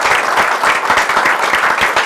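An evening audience at the Goldmark Gallery bursts into loud, close applause for the gallery staff, dense overlapping clapping that holds steady for a couple of seconds.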